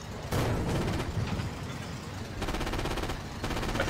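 A tank gun fires in the video game Forgotten Hope, a loud sharp blast followed by a long rumbling wash of battle noise and distant clattering gunfire.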